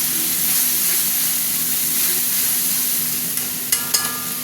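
Tomato paste frying in a pan, with fried onion, for a spicy fish curry, giving a steady, close sizzle and hiss, then a few sharp clinks of a utensil near the end, with no one talking.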